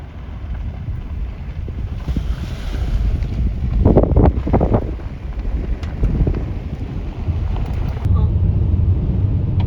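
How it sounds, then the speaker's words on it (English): Wind blows outdoors, buffeting the microphone with a steady low roar that swells in gusts around the middle and stays loud throughout. "Say the wind's blowing. Always does in here."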